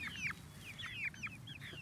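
Chickens cluck close by in a steady run of short chirpy calls. A few pet chicks and hens are heard with no talk over them.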